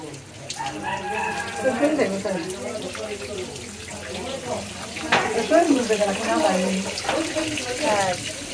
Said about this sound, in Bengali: পাঁচজনের হাত রাখো, ঠিলার মধ্যে আস্তে আস্তে করে উপরে ঢেলে দাও